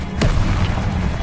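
A Confringo fire spell cast in Hogwarts Legacy bursts with one sharp blast near the start, then a dense rumbling wash of game effects and music carries on without a break.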